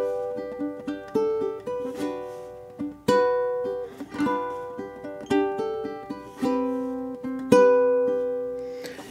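Acoustic guitar fingerpicking the opening bars of an etude, clear plucked notes ringing in a steady pattern with regular accented strikes, close and alone.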